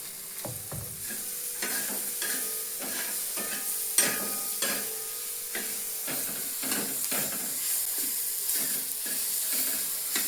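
Bajra (millet) dough mixture with turmeric being stirred, giving repeated scraping strokes over a steady hiss throughout, with no one talking.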